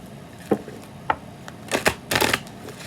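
Tarot cards being cut and shuffled by hand, a few soft flicks followed by a quick riffling burst, close and dry with no talking.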